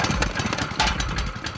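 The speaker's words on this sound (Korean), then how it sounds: "불안한 엔진 소리." An engine on a work rig runs roughly and unevenly, a close, loud, sputtering putter with irregular surges and bursts of pulsing rhythm over a short stretch.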